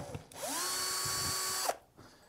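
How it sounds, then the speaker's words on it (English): A cordless power drill spins up with a rising whine, holds a steady high-pitched drone for just over a second while driving a Phillips head screw, then stops abruptly, close and isolated. "You'll get a drill and basically you need Phillips head screws"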